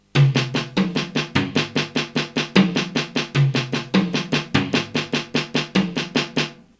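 A steady, even single stroke roll on a snare drum, rapid alternating hits with occasional accents, played close and loud.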